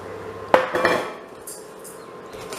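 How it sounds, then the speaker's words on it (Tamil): Wax chips tipped into a metal pot on a stove for candle making give a short, close clattering rattle of small hard pieces, then quieter settling and near silence, with no talking. "பாத்திரத்தில் மெழுகு சிப்ஸை உள்ளே கொட்டிக்கலாம்."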